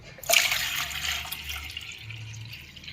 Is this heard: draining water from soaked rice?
yes